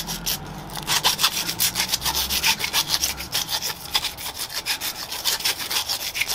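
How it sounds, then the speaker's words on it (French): A small file rasping over a plastic part of a pond filter to remove burrs, with steady rapid back-and-forth strokes, close and fairly loud, no talking. "Alors une petite lime, on va passer un petit coup là-dessus."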